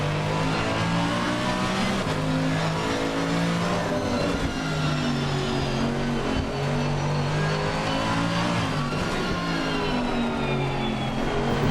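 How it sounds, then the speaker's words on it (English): A GT3 race car in Assetto Corsa Competizione, racing at Zandvoort, drones loudly and continuously with engine notes rising and dipping through corner exits, a rough chattering buzz from the traction control running through the acceleration. "You can hear the chattering of the traction control, trying to get the power down on the way out."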